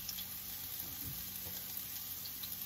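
Half a cup of diced onion frying in a pan gives a soft, steady sizzle, quiet and close, with a few faint stirring scrapes near the middle and no voices.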